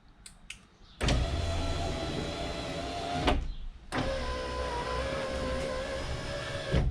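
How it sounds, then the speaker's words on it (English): BMW electric power window motor driving the glass up and down, a steady close whirring drone that stops briefly with a clunk and then restarts, with a few light clicks before it begins. "if we power window up and down"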